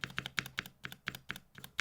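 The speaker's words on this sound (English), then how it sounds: "This spacebar has ticking." Close, regular keystrokes on a mechanical keyboard, each press carrying a small metallic tick, repeating about five times a second with no talking.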